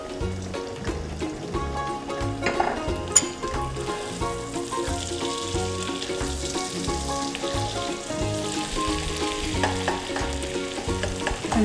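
An egg sizzling and frying in a hot pan for street-style chicken fried rice, with steady crackling spatter and scraping stirs from a spatula, loud and close, with no voices.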